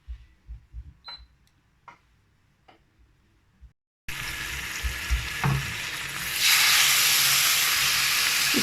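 Marinated chicken pieces hit a little hot oil with a sudden loud, steady sizzle that swells louder near the end, after a few faint clinks and taps in a quiet kitchen.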